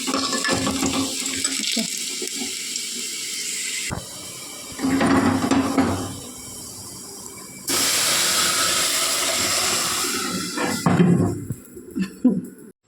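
Garlic, onion and curry leaves sizzle and hiss in hot oil in a pan, a steady, loud frying sound in several bursts that swell and die down, ending in quieter crackles.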